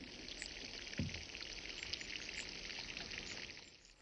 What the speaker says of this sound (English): I'm going to water outside as well, the ones that I've just planted in the ground.